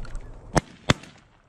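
Two sharp shotgun blasts fired at a juvenile specklebelly goose during a waterfowl hunt, about a third of a second apart, loud and close against quiet marsh background.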